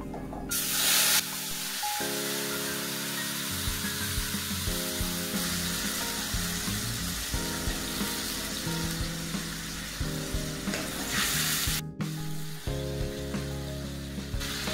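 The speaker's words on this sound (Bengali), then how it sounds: "জিরে দিলাম। আদা পেঁয়াজ টমেটো পেস্ট দিয়ে দিচ্ছি।" Ginger, onion and tomato paste hits hot oil with cumin for an egg bhapa, bursting into loud frying at the start and again near the end, with a steady sizzle between under background music.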